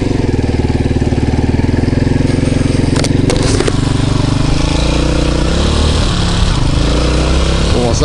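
A small Honda moped engine, warmed up, drones and revs up and down close by, with a person's voice talking over it.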